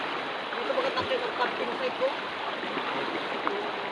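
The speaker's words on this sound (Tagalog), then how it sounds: "ito yung unang ilog na dadaan namin. Napakalinaw, napakasarap niya, maluwang na ilog." A wide, shallow, clear river flows steadily over rocks near Makibato Falls in Dingalan, Aurora, giving a continuous broadband rush with faint splashes throughout.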